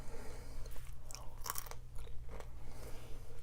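Crunchy roasted chickpeas are chewed close to the mic, with irregular crisp crunches and bites standing out over a low steady background, and nobody talks.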